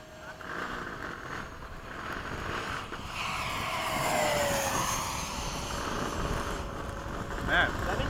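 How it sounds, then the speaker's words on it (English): An F/A-18 jet flies a low pass, its roar swelling and sweeping across with a rising and falling whine, heard from a distance under intermittent speech. "Do a low pass in front of him."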